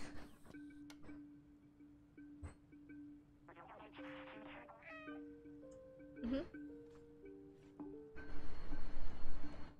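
A cat meows in the video game Stray, a short rising-and-falling call near the middle, set over sustained electronic game tones and a steady hum, with brief clicks and a louder noisy burst at the end.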